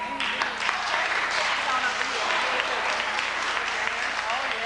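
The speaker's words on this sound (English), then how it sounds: "So let's all give a hand clap for Della White." A family gathering breaks into steady applause for a relative named Della White, the clapping sustained and fairly close throughout, with some voices murmuring underneath.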